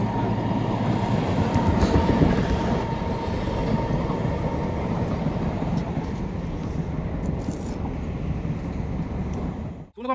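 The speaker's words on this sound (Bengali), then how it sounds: "ওই দেখো ট্রেন যাচ্ছে" A local train rumbles past near Maynaguri Road, a loud, sustained roar of wheels and carriages on the rails that holds steady, then drops away abruptly at the end.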